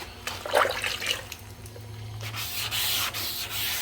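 Wet sanding paint on a 1966 Ford Bronco: steady close rubbing and scraping strokes of wet abrasive, a gritty swish with a brief louder pass early on, and no talking.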